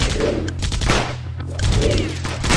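Rapid bursts of gunfire in the video game War Heroes crackle in quick succession, loud and close, with brief pauses between volleys and no talking.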